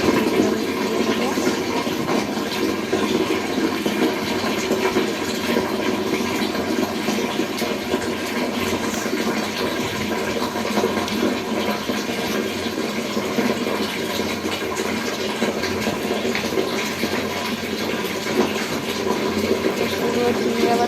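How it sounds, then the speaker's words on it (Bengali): Water gushes and runs continuously in a bathroom while clothes, trousers and rags are washed, a loud steady splashing rush that fills the whole stretch. "বাথরুমে কলা প্যান্ট ন্যাকড়া এগুলো আছে, এগুলো আমি ধুয়ে নেবো।"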